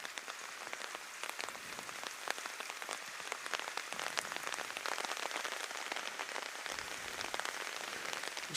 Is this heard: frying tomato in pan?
no